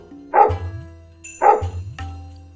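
Two sharp dog barks, about a second apart, loud and close, followed by a shorter third bark, with low rumbling in the background.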